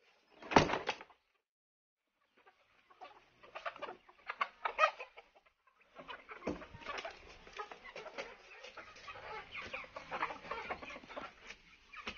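Chickens let out of their coop in the morning: a sharp bang like a door opening, then scattered soft clucks and rustling that build into continuous, fairly close clucking and scratching, with no talking.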